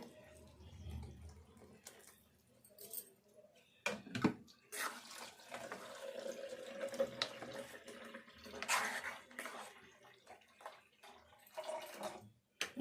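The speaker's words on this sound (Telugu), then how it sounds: "ఇది ఇప్పుడు మనము పులుపుకు తగినన్ని వాటర్ పోసుకోవాలి" Water runs and splashes from a tap into a cooking pot for tamarind tomato rasam, a steady near stream with a few brief clatters and pauses, no talking.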